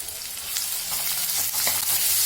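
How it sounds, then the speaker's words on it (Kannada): Chopped onion and crushed garlic frying in a little oil, a bright steady sizzle up close with several quick scraping stirs of a spatula, and no one speaking. "ಚೆನ್ನಾಗಿ ಫ್ರೈ ಆಗಬೇಕು."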